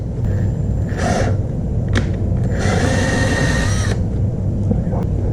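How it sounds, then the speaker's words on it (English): A power drill bores holes in a Maxton Design V1 front lip where it meets the splash guard, giving short whirring bursts separated by pauses over a steady background hum. "you need to drill through the lip here where it connects to the splash guard"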